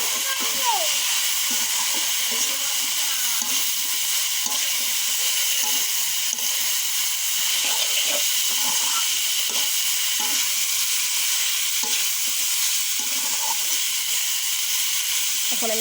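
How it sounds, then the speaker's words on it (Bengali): Luchi stirred into a pan of spiced masala, frying with a steady loud sizzle and hiss throughout, broken by scraping stirs of a spoon against the pan. "এখন আমি এর ভিতরে লুচিগুলো দিয়ে দেবো দিয়ে ভালো করে নাড়িয়ে ফেলিয়ে"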